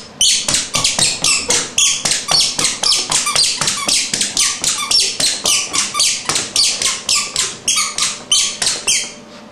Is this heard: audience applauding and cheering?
no